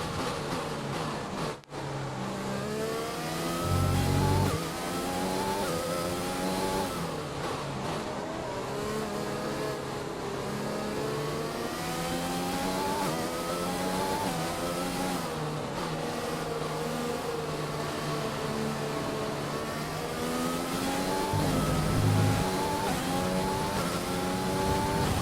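A Formula 1 car's engine screams continuously through the Hungary round of the F1 2020 racing game, harmonic whine rising and falling with gear shifts and occasional deeper rumbles, steady and loud with no speech.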